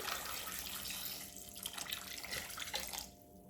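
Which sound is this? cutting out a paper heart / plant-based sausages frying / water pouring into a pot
water pouring into a pot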